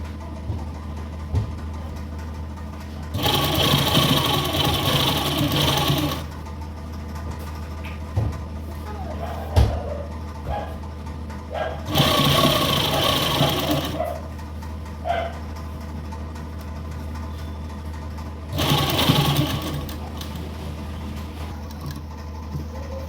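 Sewing machine stitching lace onto buckram, running in three separate bursts of a few seconds each with a fast mechanical whirr and clatter, close by, with quiet pauses between over a low background hum.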